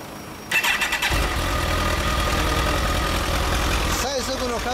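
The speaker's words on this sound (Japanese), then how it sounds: "エンジン音聞かせてもらえますか？" A 2008 Kawasaki ZX-14R motorcycle engine starts and settles into a loud, steady low running note, with people talking over it near the start and again toward the end.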